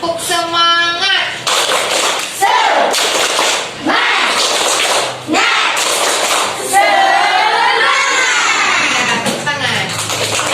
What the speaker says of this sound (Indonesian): Ayo semuanya coba tepuk semangat.